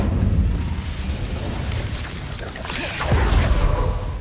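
Incendio fire spell bursting in Hogwarts Legacy, a dull whooshing blast with a deep boom near the end over a rumbling game mix; a voice speaks faintly underneath.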